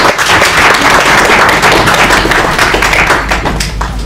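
An audience at a press club event on national security applauds the ambassador, with dense, loud, sustained clapping filling the room throughout, no talking.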